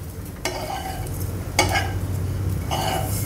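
Grated coconut roasts in a pan with a soft, constant sizzle, broken by three scraping stirs of a spatula against the pan at roughly even intervals, with a low kitchen hum beneath.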